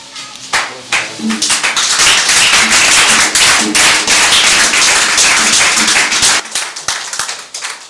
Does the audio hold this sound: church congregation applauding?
yes